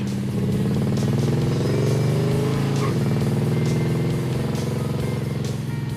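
A car engine free revving with no third gear available, a loud, close, rumbling drone that rises and falls slightly and holds steady throughout, with no speech.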